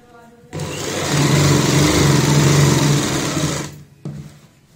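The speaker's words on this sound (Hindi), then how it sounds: "यहाँ पे ऐसे सिलाई लगाएंगे इस तरीके से" A sewing machine runs steadily for about three and a half seconds, stitching a seam on a girl's sleeveless frock, loud and close, then stops and gives one brief final burst.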